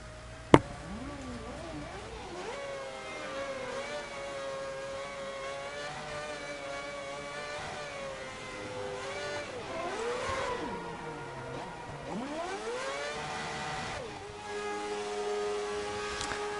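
Formula One race car from the F1 2010 video game leaving the pit garage, its high-pitched engine note rising and falling steadily through gear changes for the whole stretch, with a sharp click near the start.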